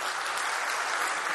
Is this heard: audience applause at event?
yes